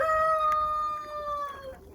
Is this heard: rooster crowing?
yes